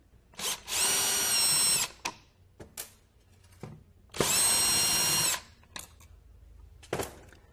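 Power drill backing out the mounting screws of a wall switch plate, two sustained whirring bursts of about a second each, close and loud, separated by short clicks and handling taps.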